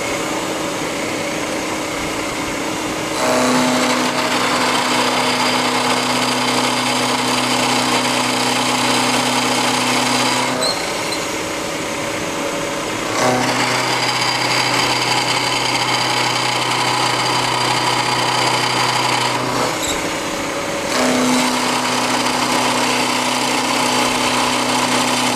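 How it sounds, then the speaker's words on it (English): A milling machine spindle runs in steady bursts, starting and stopping several times with a loud sustained whine and hum, pausing briefly between runs; no one speaks. "Turn my spindle on."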